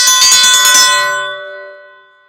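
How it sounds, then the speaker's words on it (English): A dinner bell struck a few times in quick succession, then left ringing with a long bright tone that fades away, loud and close with no voices. "I rang the dinner bell and let the gang know that it was time to eat."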